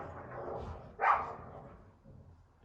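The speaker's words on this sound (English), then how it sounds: "There's dogs in the garden behind me." A single distant dog bark from a garden stands out over a faint, muffled background.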